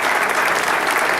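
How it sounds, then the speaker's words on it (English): An audience at an evening event gives a round of applause, a thick, continuous roar of many hands clapping, loud and steady without any speech. "she deserves a fine round of applause"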